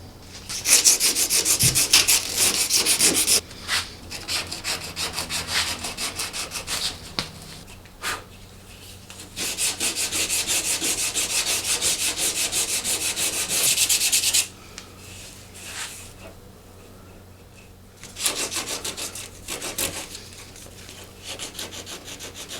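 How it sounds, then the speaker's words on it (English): A cracked surfboard rail is sanded back by hand to flatten the edge. Steady, close scraping strokes run in long rubbing passes, with short pauses between bouts. "We'll sand this back to expose that edge and get that flattened out."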